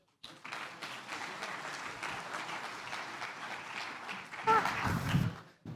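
Audience at a talk on blockchain and crypto security applauding steadily to welcome a speaker, a sustained wash of clapping that swells louder near the end, with some voices mixed in.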